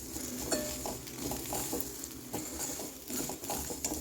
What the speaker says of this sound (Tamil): அது மேலே எல்லாத்தையும் கொட்டி திருப்பி ஒரு தடவை நல்லா கிண்டிகிட்டு இருக்கேன்.